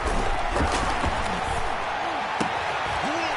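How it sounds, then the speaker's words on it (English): A football stadium crowd in a video game roars steadily at a loud, even level with sharp slaps and a commentator's voice over the top. "The crowd getting into it as we come up on a big 3rd down."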